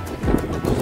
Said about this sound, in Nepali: समुद्रको छाल